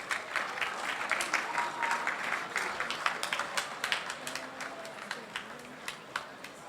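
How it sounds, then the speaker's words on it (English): Steady audience applause for a runner-up team at a hackathon awards ceremony, a dense wash of many hands clapping at moderate distance, holding fairly even before thinning slightly toward the end. "A round of applause for them, please."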